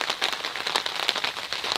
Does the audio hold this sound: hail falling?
yes